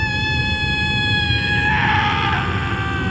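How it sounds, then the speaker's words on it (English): An unearthly, monstrous scream sound effect, loud and sustained with a shrill, wavering tone that shifts into a rough, harsher cry over a dense low rumble. "The sage let out an unearthly scream"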